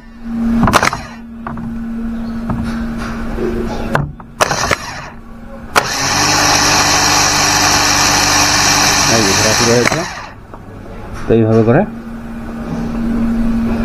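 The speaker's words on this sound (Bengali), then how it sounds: "এবং মোটরটা ঘুরতে শুরু করবে যদি ঠিকঠাক থাকে।" A car starter motor spins after its terminals are shorted with a screwdriver during a bench test, giving a loud, steady high whine for about four seconds that cuts off abruptly, with someone talking before and after.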